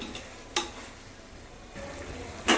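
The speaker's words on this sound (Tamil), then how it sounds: "மட்டன் நல்லா எண்ணெய் பிரிஞ்சு வர வரைக்கும் வதக்கிக்கலாங்க" Mutton with biryani masala frying in oil in a pot, a soft low sizzle broken by a few sharp scraping clicks of a stirring spoon, faint and close.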